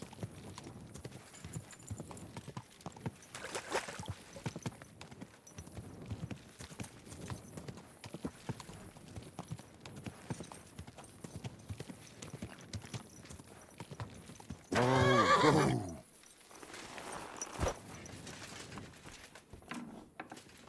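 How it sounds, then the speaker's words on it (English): A horse plods along in Kingdom Come: Deliverance 2, its hooves clip-clopping steadily under low ambient sound, broken by a brief loud burst of noise partway through. "Easy, good horse."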